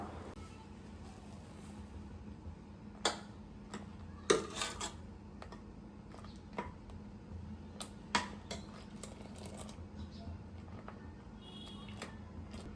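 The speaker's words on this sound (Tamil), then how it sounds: "இப்போ நம்ம வந்து ஒரு கரண்டி போட்டு இந்த மாதிரி நல்லா கலக்கி விட்டுக்கிட்டே இருக்கணும்." A ladle stirring milk in a pot for kulfi, giving faint, scattered metallic clinks and scrapes against a steady low background hum, with a few sharper knocks standing out.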